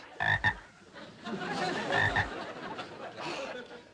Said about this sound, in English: George, it was you who promised Dennis that his frog Sam could live in the fish pond